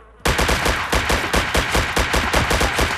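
Rapid automatic gunfire in the DayZ Overpoch mod, a Tec-9 style weapon rattling off loud, close bursts of evenly spaced shots that start abruptly and keep going without pause.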